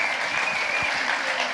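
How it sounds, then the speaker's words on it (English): Conference audience applauding steadily at the close of an afternoon tech session, a dense, even wash of many hands clapping with no pauses across the whole stretch. "a big round of applause for yourselves for being here until this time of the day"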